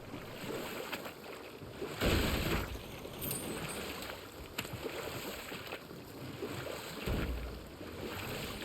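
A boat sailing in the God of War video game, with a continuous wash of water and wind around the hull and a few louder splashes and surges under a steady ambient bed.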